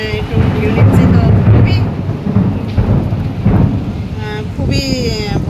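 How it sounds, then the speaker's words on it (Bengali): A heavy night thunderstorm heard from a balcony, with loud, deep thunder rumbling over a constant roar of rain. Wind buffets the microphone, and faint voices come through near the end. "তো বিদ্যুৎ চমকাচ্ছে।"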